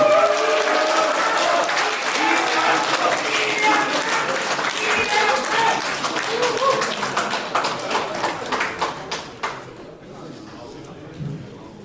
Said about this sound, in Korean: 여러분 뜨거운 박수로 환영해 주십시오.